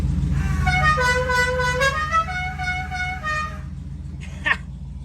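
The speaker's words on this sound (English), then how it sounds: "Oh, and then I got the horn hooked up." The General Lee car's horn blares a long, steady honk up close during a cold start, then cuts off, leaving an idling engine rumble and a brief clatter.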